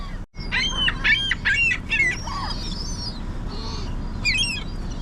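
Pigeons and seabirds call near a seashore, several sharp bird squawks and chirps in quick bursts close by, over a steady outdoor background with no talking.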